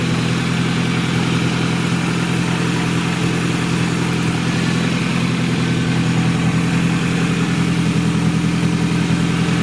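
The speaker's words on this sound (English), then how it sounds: "Here's a short clip of the truck running. I just started it, so the idle's a little high and it's still cold." A cold minitruck engine, just started with its EGR and EVAP systems removed and a loose intake, idles slightly high with a steady, loud, even drone and no pauses.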